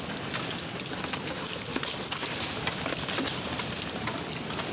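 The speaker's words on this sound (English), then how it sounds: "here's the rain we were asking for" Heavy rain falls during a hail storm near Bemidji, Minnesota, making a dense, constant close hiss and patter with scattered sharper impacts throughout.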